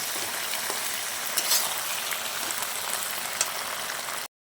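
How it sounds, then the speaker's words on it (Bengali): Chicken pakoras sizzle and fry steadily in a pan of chilli chicken while being stirred, a continuous close crackling hiss with light scraping touches and no talk. "এর মধ্যে আমি চিকেন পকোড়াগুলোকে দিয়ে দিলাম, দিয়ে আবার আমি ভালো করে নেড়ে চেড়ে মিশিয়ে নেব।"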